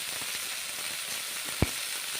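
A ground mustard, garlic and chilli paste fries with ridge gourd in a pan, giving a continuous even sizzle with one short sharp knock partway through.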